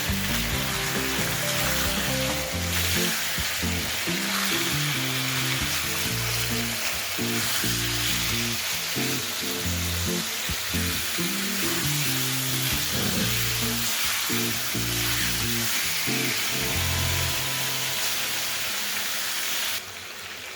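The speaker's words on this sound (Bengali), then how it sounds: "চিকেনটা দেওয়ার পর প্রথম 3-4 মিনিট আমি এটাকে হাই ফ্লেমে একটুখানি ভেজে নেব।" Chicken fries on a high flame for Bengali pepper chicken, making a loud, dense, continuous sizzle with a bubbling rumble underneath, close and steady throughout.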